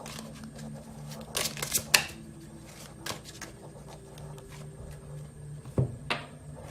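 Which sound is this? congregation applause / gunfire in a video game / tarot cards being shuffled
tarot cards being shuffled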